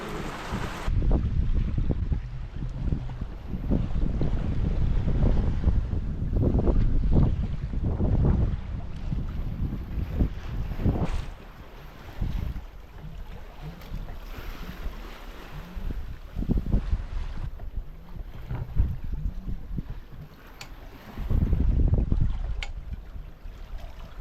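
A sailboat running at about 5 knots under a rain squall at sea, with steady loud wind roar and rushing water across the hull, gusts swelling and easing, and no voices.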